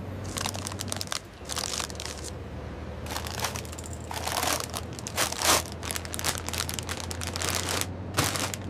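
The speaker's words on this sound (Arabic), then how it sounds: "كيس شيبسي." A bag of chips crinkled and crushed on an Egyptian street, in repeated loud crackling bursts over a steady low hum, close to the listener with no talk.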